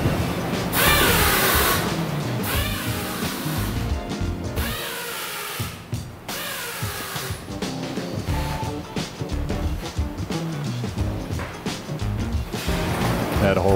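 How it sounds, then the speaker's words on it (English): A power drill whirs in bursts with a brief pause, close up, drilling mounting bolt holes in a roller skate boot, as someone talks over the work. "drill for the mounting bolts there"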